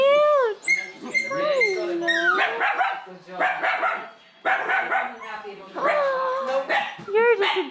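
Several dogs at a dog sanctuary bark, yip and whimper close by in overlapping bursts, with whining wails between barks and human voices mixed in.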